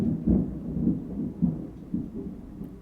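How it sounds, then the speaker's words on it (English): Low rumbling thunder rolls through a storm in a long, uneven series of deep swells, fairly close and steady, with no talking over it. "Did you guys just hear that thunder?"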